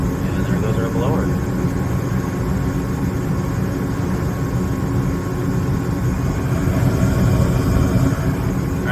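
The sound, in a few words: gas furnace blower motor starting and running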